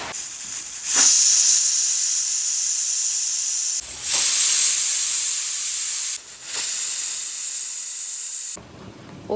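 A pressure cooker with soaked chickpeas vents a loud, continuous hiss of steam. The hiss cuts out briefly a few times, then surges back, and it drops away sharply just before the end.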